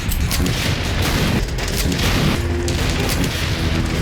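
Rocket blasts and booms in a tank battle in Call of Duty: World at War, a dense, loud barrage of explosive rumbles and crackling bursts filling the scene without pause.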